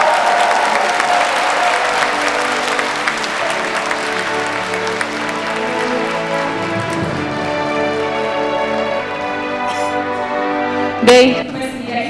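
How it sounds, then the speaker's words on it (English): An audience at a peace commemoration ceremony applauds warmly and steadily throughout, while a sustained musical tone plays underneath and a brief louder burst comes near the end. "Please give Mr. Manhee Lee another round of warm applause."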